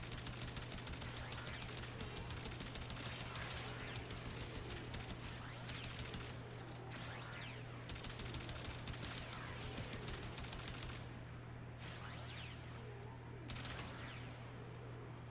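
A Tiberon Prime rifle fires in the video game Warframe, with loud, rapid, continuous bursts of gunfire that have brief gaps between volleys, over a steady background hum.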